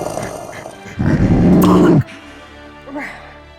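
A voice imitates a creature's slow, halting growl: a rough, loud snarl of about one second that rises abruptly out of quieter speech and then cuts off sharply.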